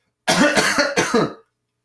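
A close, harsh burst of coughing, three or four quick hacks in a row, then silence.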